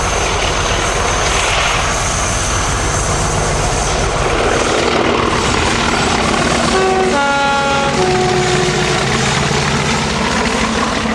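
British diesel locomotive 4145 in Visions livery working a charter train near Preston, a loud, sustained engine roar with rising tonal whine and rumbling throughout, no talk.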